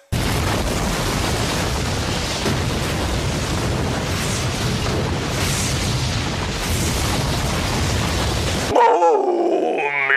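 A booby-trapped factory blows up in a film, a sustained loud roaring blast rumbling for about nine seconds before cutting abruptly to a brief, quieter tonal passage.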